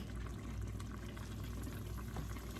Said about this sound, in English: I am just gonna use a little oil, and I am gonna fry